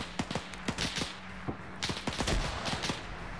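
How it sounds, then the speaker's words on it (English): Bursts of rifle and machine-gun fire crack and rattle through a large WW2 infantry battle between German and Soviet sides, with shots tearing through bushes; rapid, irregular volleys at mixed distances, some loud and close, others farther off. "the shots are ripping the bushes apart"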